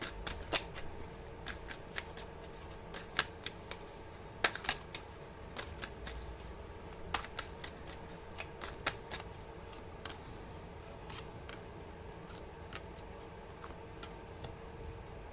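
Oracle cards being shuffled by hand, a soft papery riffle with a steady run of crisp flicks and snaps, close and fairly quiet against a low steady background hum, with no speech.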